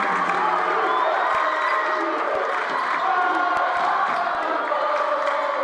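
Crowd at a high school basketball game between William Blount and Maryville cheering steadily in a gym, with ball bounces and sneaker thuds cutting through the sustained roar; a commentator's voice is partly audible.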